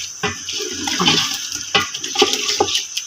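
Water from crushed garlic is poured into a biryani pot, splashing and gurgling loudly up close in a few quick surges.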